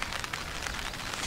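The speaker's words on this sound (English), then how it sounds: "you can probably hear it, the rain coming down" Rain falls steadily on a campsite in the Jersey Pine Barrens, a dense, even patter of drops on surfaces close by, with no voices.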